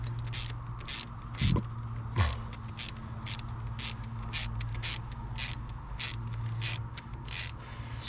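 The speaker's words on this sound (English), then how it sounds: "I know the ratchet is more tool than required for this, but it just makes my life easier than a wrench" A ratchet clicks away in quick repeated bursts, loosening awkwardly placed bolts to disconnect an air compressor, the close, steady ratcheting running almost the whole time over a low mechanical hum.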